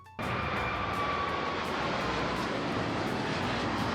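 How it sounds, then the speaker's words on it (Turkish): Steady broadband roar of an airplane in flight, a sound effect in the Stardew Valley game, starting abruptly and holding loud and constant with no talk over it. "İlk uçağa atlayıp dedemin koyuna doğru yola çıktım."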